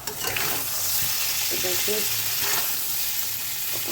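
Potatoes and prawns frying and being stirred in a pan, a steady broadband sizzle with scraping stirs throughout and a brief spoken word over it.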